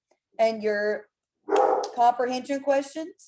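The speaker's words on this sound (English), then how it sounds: "excuse my dogs for that moment." Dogs barking indoors in a home, a sustained bark followed by a run of several yips and barks, loud and close, overlapping a woman's speech.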